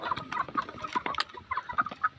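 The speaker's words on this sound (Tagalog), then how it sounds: "Ang tataas po nilang manok." Stag roosters of the Black Spartan breed clucking in a pen, a series of short, close, moderately loud clucks and calls in an irregular rhythm with no talk over them.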